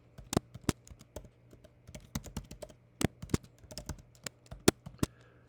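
Fingers type on a computer keyboard while HTML and CSS code is entered: close, crisp keystrokes arrive in irregular bursts and single taps over a faint background hum, with no talking.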